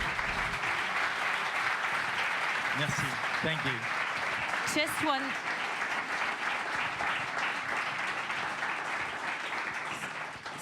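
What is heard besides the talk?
audience applause for a speaker at a conference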